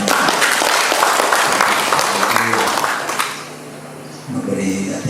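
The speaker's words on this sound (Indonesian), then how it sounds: "Kita beri tepuk tangan." Crowd applause at a regional youth committee assembly in Teluk Wondama, a dense burst of clapping for about three seconds that fades out, then a voice begins speaking.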